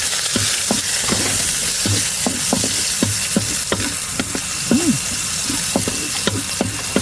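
Garlic frying in a pan for fried rice, cooked on a boat at sea, giving a steady loud sizzle with repeated scraping taps of a utensil stirring at an irregular rhythm.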